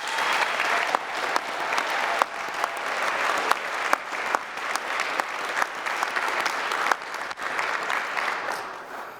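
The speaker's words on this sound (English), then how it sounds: "let's give them all a resounding joy-filled round of applause" A university graduation ceremony audience gives a sustained round of applause, dense crowd clapping that holds steady with a few sharper individual claps standing out, and no talk over it.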